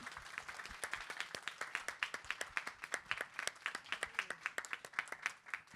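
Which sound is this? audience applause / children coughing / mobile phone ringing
audience applause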